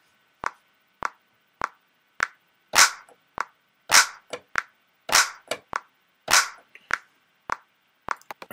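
A drum machine clap pattern programmed in Logic Pro: about a dozen sharp, dry clap hits in a loose, repeating rhythm, each crisp and close with a quick decay and silence between.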